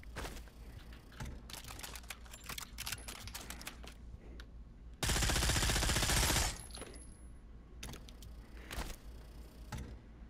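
SMG with a scope firing in the VR shooter Pavlov VR: clusters of sharp shots and clicks, then one long, loud sustained burst of automatic fire, followed by a few more scattered shots.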